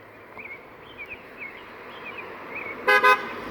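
A passing car gives a short double toot of its horn near the end, loud and close, after faint traffic and distant bird chirps in the background.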